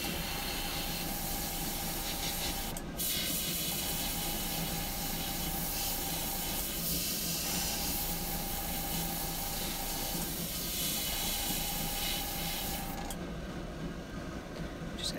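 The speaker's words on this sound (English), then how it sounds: "We'll see how good I am at airbrushing first." Airbrush spraying paint onto a carved wooden eagle walking staff: a constant soft, airy hiss running the whole time, fairly quiet, with a couple of brief breaks where the flow stops and restarts.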